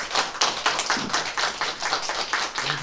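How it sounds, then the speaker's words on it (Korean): Clapping from a church congregation during a Sunday service award presentation, a steady patter of hands without voices, moderately loud and close. "박수 부탁합니다."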